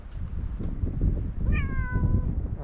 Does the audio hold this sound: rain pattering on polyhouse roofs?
no